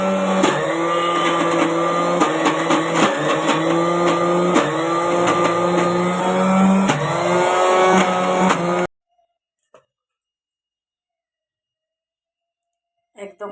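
An electric mixer grinder blends onion into a paste, a loud steady whirring drone with rattling clicks that runs for about nine seconds, then cuts off abruptly into near silence with a couple of faint knocks.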